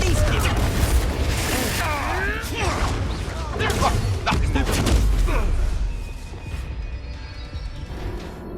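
A Confringo fire spell detonates in Hogwarts Legacy during a duel, a loud booming blast with crashing, whooshing debris over dense game combat noise, fading to a quieter rumble near the end.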